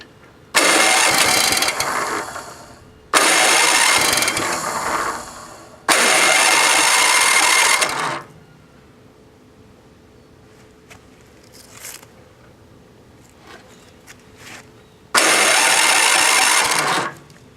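Vintage rusty snowblower engine being pulled over, three loud sputtering cranking bursts in close succession, a quiet gap with small knocks, then one more cranking attempt.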